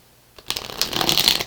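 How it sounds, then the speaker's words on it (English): A short burst of a tarot card deck being shuffled, a quick riffling flutter that builds and continues briefly, close and fairly quiet. "I'm going to go ahead and shuffle this deck a few times before I do so."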